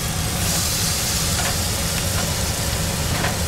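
Paua meat sizzles in plenty of butter in a hot pan, a loud, dense, continuous frying hiss close up with faint crackles throughout.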